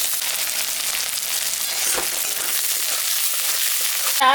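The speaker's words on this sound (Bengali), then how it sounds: "পেঁয়াজটাও দিয়ে দেবো" Onion fries in mustard oil with a steady, dense sizzle, close and even throughout, ending in a brief scrape of stirring.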